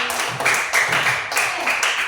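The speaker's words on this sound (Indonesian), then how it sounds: "tepuk tangan buat Resti" A classroom of students gives a short round of applause for a classmate, several bursts of clapping swelling and fading across about two seconds, fairly close.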